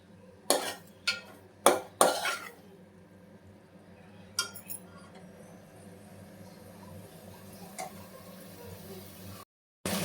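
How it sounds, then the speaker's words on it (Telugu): Boiled drumstick pieces tipped into a curry pan and stirred, with several sharp metallic knocks of a spoon against the pan, then a quieter stretch of faint background hiss. "మునక్కాయల పీసెస్ కూడా యాడ్ చేస్తున్నాను. మిక్స్ చేసుకోవాలి."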